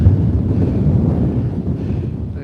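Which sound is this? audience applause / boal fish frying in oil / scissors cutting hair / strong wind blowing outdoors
strong wind blowing outdoors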